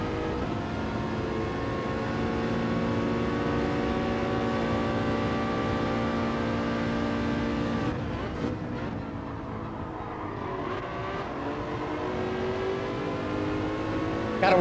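An Aston Martin engine in Gran Turismo 7 drones at low revs in a steady tone, then shifts and climbs again as the car accelerates, loud and continuous.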